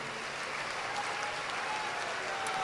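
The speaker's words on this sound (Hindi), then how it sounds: "जोरदार ताली बजा करके सभी अतिथियों को धन्यवाद दो।" A large audience at a Bageshwar Dham religious gathering in Mumbai gives the guests a steady burst of clapping, dense and sustained with no pauses.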